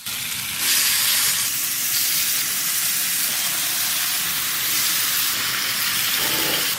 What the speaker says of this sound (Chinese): 平底锅里抹一层油，下入腌好的猪肉片